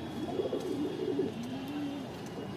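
A male racer pigeon gives a low, rolling coo close by, a couple of soft throaty phrases over quiet background noise.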